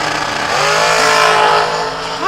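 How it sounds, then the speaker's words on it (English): A dragster making a timed drag-racing run at a season kick-off event, a loud, sustained engine roar that stays close and intense before easing slightly at the end, with no voices. "we're ready to watch the end of the dragster time runs"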